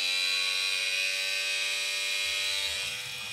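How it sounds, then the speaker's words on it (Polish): A small 1.5 bar water pump in an off-grid setup on Sicily runs with a steady high-pitched electric whir, continuous and close, with no talk over it. "Dobra, pompka ruszyła."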